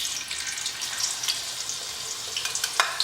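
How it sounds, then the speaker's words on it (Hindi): Onions hit leftover ghee, previously used for frying almonds and raisins, giving a bright, crackling sizzle up close, steady with small spitting pops that sharpen toward the end. "उसका जो घी बचा हुआ है उसी घी के अंदर हम ये प्याज जो है इन्हें डाल देंगे।"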